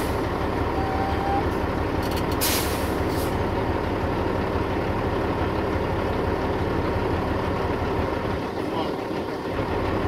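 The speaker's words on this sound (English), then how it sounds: "I'm going to fan the brakes down 20 to 25 psi." A truck's air brakes are fanned down during an air brake test, heard as repeated loud hissing bursts of released air over a steady idling engine, close by.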